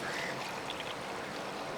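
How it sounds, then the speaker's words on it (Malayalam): Water from a glass pouring into a mixer jar of ground spices for chicken biryani gravy, a brief close steady splashing trickle with no pauses. "ഇനി നമ്മൾ ഈ ജാറിൻ്റെ അകത്തോട്ട് കുറച്ച് വെള്ളം ഒഴിച്ചു കൊടുക്കുക"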